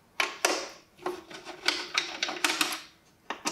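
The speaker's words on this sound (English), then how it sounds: "we're going to start by removing the four screws at the front of the unit." Screws being removed from the front of an Antminer L3+ crypto mining unit, a close, uneven run of sharp metallic clicks and scraping taps with no talking.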